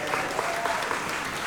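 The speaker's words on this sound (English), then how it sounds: "Please keep the applause going" Audience at a live jazz concert applauds the band's guitarist, a close, even burst of clapping sustained throughout, with a faint voice underneath.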